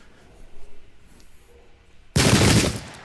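A Gatling gun opens fire in a Zulu war strategy game, a sudden loud, dense burst of rapid shots lasting about a second after quieter background sounds.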